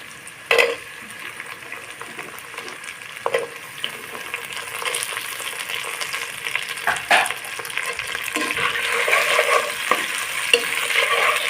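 Cubed potatoes frying in a pan, with a steady sizzle that grows louder over time, broken by sharp scrapes and clacks of a spatula stirring them, and no voices.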